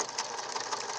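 A sewing machine runs steadily, stitching a seam straight across a fabric nose enclosure for a mask, a continuous close mechanical whir with no pauses.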